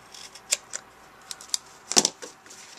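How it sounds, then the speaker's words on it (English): Scissors trim excess cardstock in a few sharp, close snips spaced irregularly over a faint background. "And now I can trim off the excess here."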